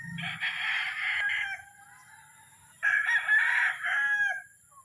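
A sweater gamefowl rooster, a seven-month-old possum sweater cross, crows twice on a farm, each loud crow about two seconds long with a quiet gap between them and no talk.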